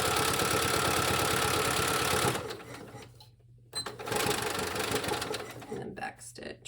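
A sewing machine stitching a bag runs in a fast, loud mechanical whir for a couple of seconds, stops, then restarts in shorter bursts, with a voice faintly present between runs.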